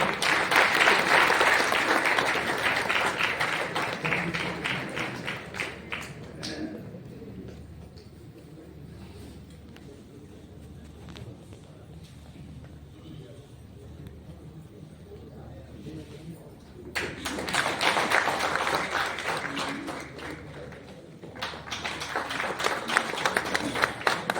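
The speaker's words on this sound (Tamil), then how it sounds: "பலத்த கரகோஷங்கள்." Loud audience applause at a Thiruvalluvar Day awards ceremony with the Governor, bursts of dense clapping at the start and end with a quieter stretch of murmur between.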